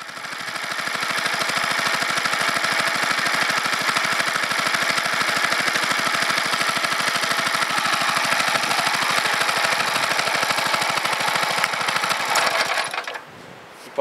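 A 6.5 horsepower small engine driving an induction motor generator runs at a steady, loud, constant speed with an even rapid pulse, then cuts off near the end.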